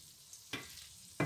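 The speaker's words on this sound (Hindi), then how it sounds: "चलिए अब मैं इसको मज़ीद 1 मिनट भून के फिर उतार" Potatoes and bell peppers fry in a pan for a shimla mirch aloo bhuji, a steady low sizzle broken by two louder stirring bursts about half a second apart, with no talk.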